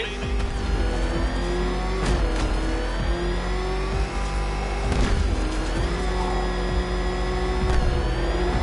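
A car engine revs and roars loudly in Batman: Arkham Knight, a continuous motor drone with repeated surges and a few sharp impacts, while a voice talks over it.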